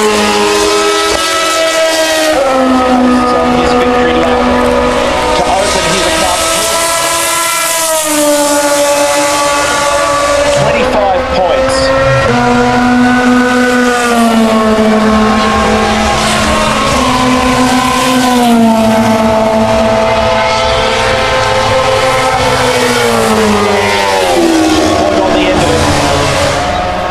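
A Formula 1 race car on its victory lap at the 2011 Melbourne Grand Prix gives a loud, continuous engine whine that rises and falls with gear changes, while commentary runs over it throughout.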